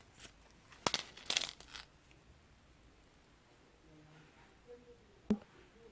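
Crochet yarn snipped with scissors, a couple of quick crisp cuts near the start, then quiet handling and one small click later, close and faint.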